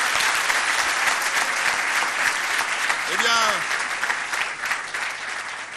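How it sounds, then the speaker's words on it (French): Studio audience applauding the guests of a French-language TV show in Matadi, loud sustained clapping throughout while someone speaks briefly over it. "applaudissez très fort pour mes invités"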